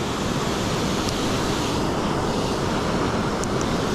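Water pours over a small river spillway as a loud, broadband roar, steady and close, with no voices over it.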